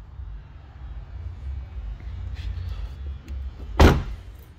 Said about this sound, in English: Passenger front door.